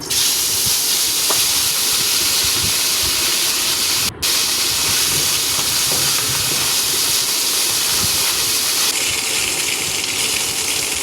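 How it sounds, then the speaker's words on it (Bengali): Fish sizzling and frying in hot oil in a pan, a loud, dense, continuous hiss that runs unbroken apart from one momentary dropout, with no voices. "বাকি যে মাছগুলো ভাজতে বাকি আছে সেগুলোও ভেজে নিব"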